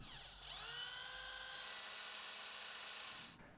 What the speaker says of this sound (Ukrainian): Свердлимо отвори під петлі.